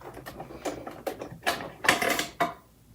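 Rope basket being stitched on a sewing machine, a series of short mechanical whirring bursts and clicks with gaps between, close and fairly quiet.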